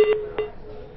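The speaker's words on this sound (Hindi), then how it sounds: "लगता है फोन लाइन कट गया जैन साहब का" Telephone line tones as a call drops: two short electronic beeps spaced apart within about half a second, fairly faint, followed by a low steady line hum with no voices.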